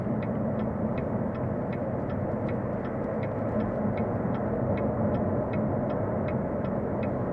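A 2017 Chevrolet Corvette Z06 in sport mode on 335 rear tires cruises quietly, giving a steady low road and engine rumble with faint regular ticking throughout and no talk.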